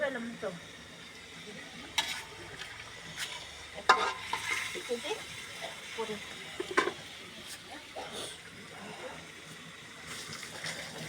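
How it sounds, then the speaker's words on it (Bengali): Chicken with spices is stirred and sautéed in a pot over a clay stove, a soft sizzle broken by scraping and clanks of a ladle, while voices talk faintly in the background. "এই যে কষানো হচ্ছে এটা 20 মিনিট ধরে এই কষানোই হবে"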